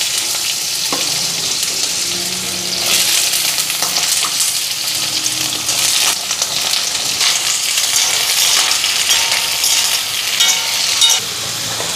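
Whole cumin seeds frying in hot oil in a home kitchen pan give a steady, loud bright sizzle and crackle throughout, with no speech.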